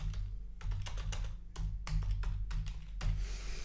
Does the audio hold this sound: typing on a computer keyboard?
yes